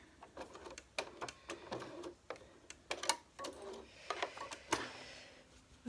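A sewing machine back stitching bias binding on a fabric mask, making a series of light, quick mechanical ticks and short stitching bursts at moderate distance, quiet overall.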